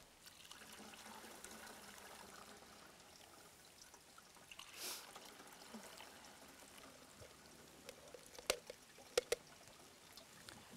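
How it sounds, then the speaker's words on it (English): A cup of collected insect sample poured through a tea filter in a forest reserve gives a faint, quiet trickle of liquid, with a few sharp clicks near the end. "I take the cup with the collected insect sample and pour it through a tea filter."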